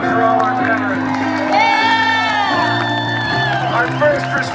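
A concert crowd in The Villages, Florida cheers and whoops for veterans at a show, with loud, sustained shouting voices over a steady tonal hum from the stage.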